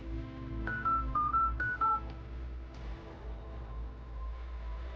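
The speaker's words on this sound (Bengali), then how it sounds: "ওকে একটা ফোন করে দেখি" A phone keypad gives a quick run of about six short dialing beeps at an irregular pace over a low hum indoors, then goes quiet.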